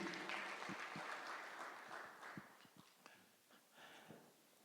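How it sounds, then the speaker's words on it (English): Guests at a presidential breakfast for World Athletics Championships medallists clap for the athletes, a soft, distant round of applause that thins out into scattered individual claps, with faint voices underneath. "let's take a hearty clap"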